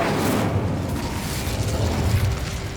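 A roaring, crackling burst of fire from the Incendio spell in the video game Hogwarts Legacy, a steady loud whoosh with low rumble lasting a few seconds.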